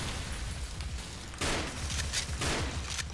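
Rapid gunfire rattles in the online shooter game Special Force, with dense overlapping bursts and pops heard at moderate distance over a continuous noisy background.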